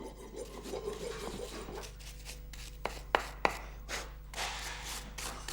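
Hand file and chisel working a cast zinc piece, with rough rasping strokes, a few sharp metallic taps and scraping, close and moderately loud over a steady low hum, without speech.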